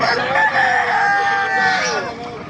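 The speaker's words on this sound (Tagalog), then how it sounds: "Mga black na inahin manok, oh." Roosters crowing and hens clucking among mixed poultry at a live animal market in Baliuag, Bulacan, a dense, continuous chorus of close, loud fowl calls layered over one another with no break.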